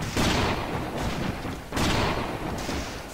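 Sniper rifle shots in the video game A.V.A, two heavy booming reports about a second and a half apart, each with a long decaying tail, loud and close.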